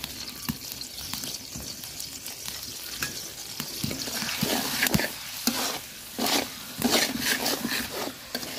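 Spice paste with water, salt and turmeric sizzles and fries in a pan, with steady crackling hiss and scraping stirring strokes near and moderately loud, no talk.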